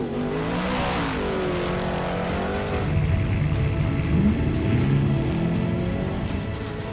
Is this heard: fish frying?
no